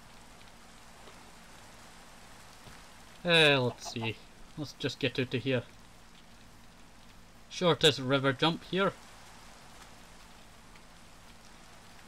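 Steady rain hisses in a Minecraft game as a soft, constant wash throughout. A person talks over it in two short stretches.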